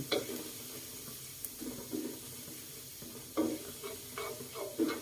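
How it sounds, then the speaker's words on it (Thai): Garlic fries in a pan before canned fish is added, with an uneven sizzle broken by scraping stirs and clattering utensil knocks. "เจียวกระเทียมให้หอมนะเจียวกระเทียมเพื่อหอมก่อน"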